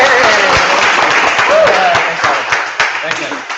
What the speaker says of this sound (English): let's give Oliver a round of applause